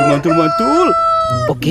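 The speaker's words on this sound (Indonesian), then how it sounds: "Ini ada ayam berkokok" A toy rooster crows loudly and close by with a drawn-out, electronic cock-a-doodle-doo, played among children's toys such as an ondel-ondel puppet, while a voice speaks briefly over it.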